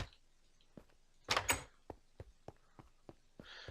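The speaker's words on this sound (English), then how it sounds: "I need to remove that iron door." An iron door in the Minecraft video game opens or closes with a faint, quick burst of clanking, set among a scatter of soft, sharp in-game clicks and taps in an otherwise quiet scene.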